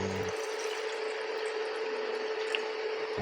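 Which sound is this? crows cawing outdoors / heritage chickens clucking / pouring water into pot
pouring water into pot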